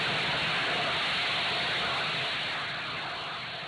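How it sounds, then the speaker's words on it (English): Rocket booster venting after landing, a loud continuous broadband hiss that stays steady and gradually fades toward the end. "You got the venting right there at the end after the landing was confirmed."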